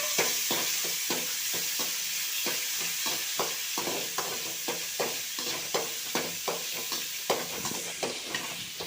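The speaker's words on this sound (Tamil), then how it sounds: "அதில் பூண்டை போட்டு நல்லா வதக்கணும்" Garlic sautéing in a little oil in a pan, a steady sizzling hiss with regular spatula scrapes and stirring strokes throughout, close and alone.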